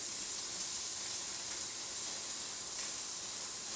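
Butter brushed onto a ribeye steak on a grill sizzles with a steady, close hiss that holds level throughout, with no voices over it.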